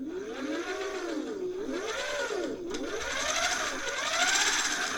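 A thrift-store Singer 401A sewing machine motor spins on its own with a steady whir whose pitch sweeps up and down in repeated arcs as pressure on the control changes, growing slightly louder toward the end.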